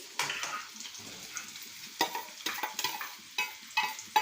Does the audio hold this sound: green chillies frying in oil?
yes